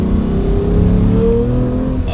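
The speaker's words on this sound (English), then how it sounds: "It just has a nice sounding engine." A Lamborghini engine revs steadily and loudly from inside the car, a deep continuous roar that rises gradually in pitch, with no talk over it.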